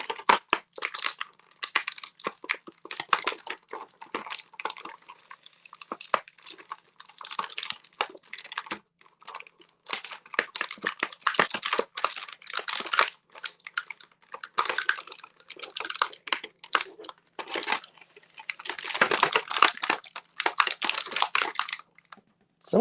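Plastic packaging of a GI Joe Retro Snake Eyes action figure crinkles, crackles and snaps as it is torn open, in a long run of irregular close-up bursts with brief pauses and no voices.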